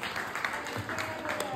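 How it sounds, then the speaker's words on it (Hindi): Fairly quiet audience applause at a gathering of teachers, a steady patter of many hands clapping, with faint voices mixed in. "एक बार के लिए जोरदार तालियां हो जाएं।"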